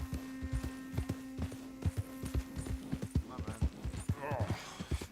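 Horse hooves clip-clop at a steady walking pace in Red Dead Redemption 2, each strike close and distinct over a low game hum, with a faint breathy snort near the end.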